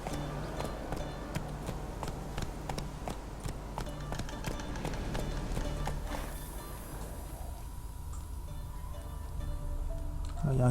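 A horse gallops in The Witcher 3. Its hoofbeats fall in a steady, rapid rhythm over the game's ambience, then thin out and give way to quieter background sound in the last few seconds.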